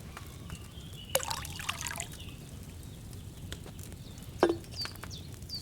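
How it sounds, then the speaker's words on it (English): Wine poured into a cauldron in the medieval video game Kingdom Come Deliverance 2, a soft liquid trickle and pour with a few brief splashy bursts, quiet and close, with no talk. "So, what did you pour in there? Wine, of course."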